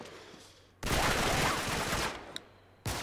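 Sustained video-game gunfire from Uncharted 3 bursts in as a loud, dense rattle of automatic shots lasting about two seconds, then a fresh burst starts at the very end.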